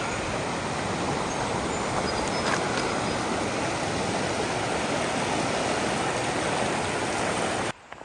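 Steady rushing of a river flowing near Bright, a broad continuous wash of water that stays loud and even throughout, cutting off abruptly near the end.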